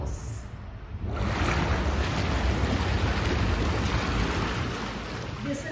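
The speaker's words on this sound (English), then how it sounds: "You've got this beautiful pool slash jacuzzi with this incredible view and bubbles." Water bubbles and churns in a pool jacuzzi at a hillside hacienda in Adjuntas, Puerto Rico: a soft start gives way to a steady, broad hiss of bubbles that lasts several seconds.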